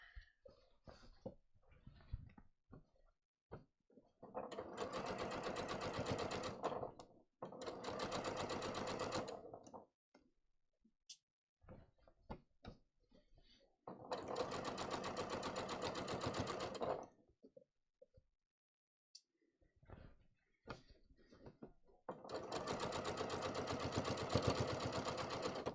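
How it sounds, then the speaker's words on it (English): A domestic sewing machine stitches in the ditch on a pair of classic slim trousers, running in four steady bursts of a few seconds each, separated by quiet pauses with small handling clicks. "you can see that I'm stitching in the ditch"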